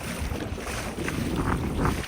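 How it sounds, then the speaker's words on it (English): Water rushes and splashes steadily around an electric-motor kayak (Newport 86 lb thrust) running at full speed on a lake, mixed with wind buffeting the microphone; no voices. "Look how the water splashing near me."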